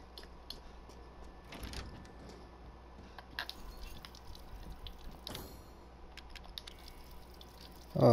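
Water dripping from a sink in the video game Resident Evil Village, a few sparse faint drips and taps over a low ambient hum.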